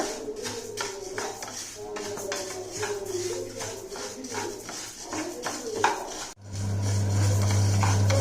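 Black urad dal roasting in a pan for idli podi, with repeated scraping and stirring strokes against the metal, close and fairly loud, ending in a steady hum.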